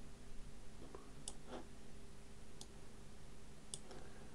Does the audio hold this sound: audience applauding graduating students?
no